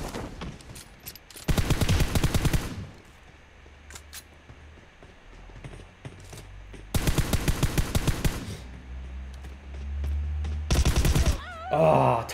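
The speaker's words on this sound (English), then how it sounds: "Tommy gun." Tommy gun bursts in a PUBG Mobile war-mode match, three loud rapid-fire volleys of clattering shots separated by quieter game ambience.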